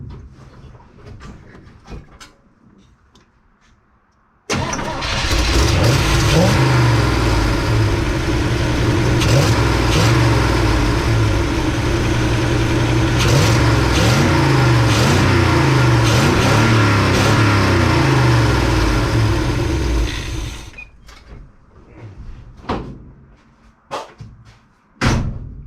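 After a few clicks and knocks, a Small Block Chevy V8 in a truck, freshly fitted with a new cam and lifters and smoking slightly, fires up. It runs loud and rumbling with revs for about fifteen seconds, then shuts off, followed by a few clunks.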